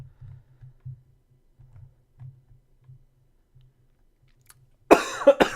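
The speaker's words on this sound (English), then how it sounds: "I'm tired of coughing." A single sharp cough from a person, loud and close, bursting out at the end after several seconds of faint low ticking.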